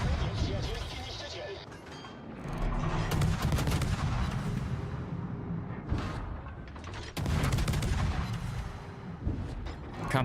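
Naval guns firing in the World of Warships video game, heavy booming salvos and rumbling blasts in repeated waves, loud and dense, with a voice talking over the battle.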